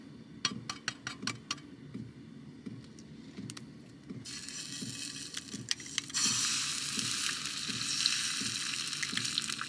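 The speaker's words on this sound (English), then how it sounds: "Look at that, starting to fry up the egg already." Egg frying in a pan on a van's small stove: a steady crackling sizzle that swells louder partway through, with a few sharp clicks and scrapes of a utensil near the start.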